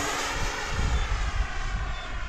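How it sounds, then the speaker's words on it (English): A Freewing Vulcan radio-controlled model jet flies overhead with a continuous rushing, whooshing roar that swells slightly as it passes, with no voices. "Oh, this jet's so nice."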